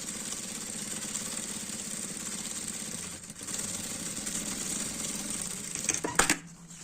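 A sewing machine runs a continuous stitching line around the edge of a multipurpose zippered bag, a quiet, steady, fast mechanical whir with a brief pause midway and a few clunks near the end.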